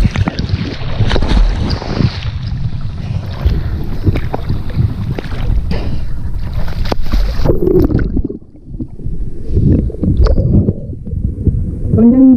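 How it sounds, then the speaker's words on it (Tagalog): Strong waves wash around a small fishing boat at sea, a loud continuous rush of water and wind buffeting close by, with a deeper surge partway through. "Medyo malakas yung alon mga ka-Jerek."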